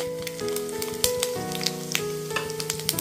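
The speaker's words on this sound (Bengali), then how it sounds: "এবারে ওই তেলের মধ্যে আমি দিয়ে দিচ্ছি হাফ চামচ গোটা জিরে, একটা তেজপাতা আর দুটো শুকনো লঙ্কা" Whole cumin, a bay leaf and two dried chillies fry in hot oil for a fish curry with cauliflower and potato, giving a steady close hiss with small crackles and pops throughout and no talking.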